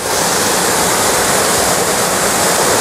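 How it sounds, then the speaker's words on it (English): A waterfall on a hiking trail from Tsukigaseguchi to Iga in Japan roars steadily, a loud, dense, continuous rush of falling water heard up close with no voices over it. "I want to have a close look at a lot of these waterfalls"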